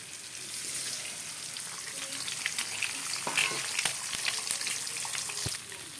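Eggs sizzle and crackle in a hot pan with fried onion, chilli and tomato, a steady frying hiss with scattered pops and clicks of stirring.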